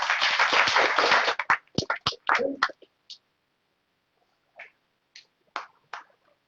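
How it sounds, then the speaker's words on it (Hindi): An audience at an IMC team success celebration in Prayagraj claps: a dense burst of applause for about a second and a half, then thinning to scattered individual claps that trail off with gaps. "जोरदार तालियां होनी चाहिए"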